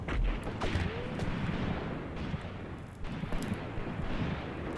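Mortar fire in the WWII tactics game Graviteam Tactics Mius Front, heard as a continuous rumbling barrage with a few sharper booms and crackles.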